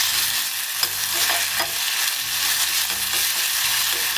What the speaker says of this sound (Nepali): एउटा मसिनो गरी काटेको टमाटरलाई हाले। यो सबैलाई मजाले चलाउनु पर्छ।